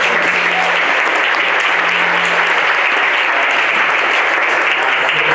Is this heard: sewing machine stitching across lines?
no